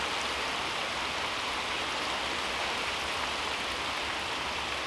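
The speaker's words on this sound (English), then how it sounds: "Well, this is the last of the rain," Steady rain falls over a log cabin building site, a dense, continuous hiss of drops that stays close and even throughout, with no voices.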